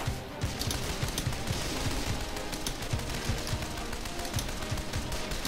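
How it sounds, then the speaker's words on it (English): Sustained rifle and machine-gun fire from friendly soldiers in the Men of War: Condemned Heroes strategy game, rapid repeated shots crackling loudly and continuously over a busy battlefield din. "My own guy's firing on me?"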